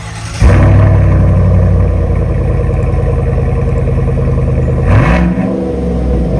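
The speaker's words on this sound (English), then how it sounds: "I now have installed the AWE 3-inch catback bolt-on system, and if you want a nice rumble with zero drone" Chevrolet Silverado with a 5.3 V8 and an AWE 3-inch catback exhaust kicks in loudly with a deep rumble, holds a steady throaty run, then blips in a short rev near the end before settling again. No voices.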